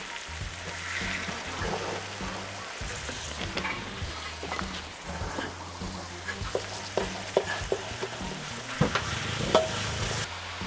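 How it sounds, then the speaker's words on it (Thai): Chili curry paste sauce stir-fried in a pan, with a continuous sizzle and frying hiss and repeated scraping and stirring clatter from a utensil, close and steady throughout. "แล้วก็ผัดให้น้ำมันแห้งๆนิดหนึ่งนะครับ"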